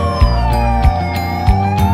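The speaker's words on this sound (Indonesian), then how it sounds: "Petugas membunyikan sirine terputus-putus selama 5 menit agar masyarakat segera berkumpul di titik kumpul." A dam emergency warning siren sounds loud and steady with a sustained wailing tone, broken by short repeated pulses roughly every half second to three-quarters of a second, with no voices present.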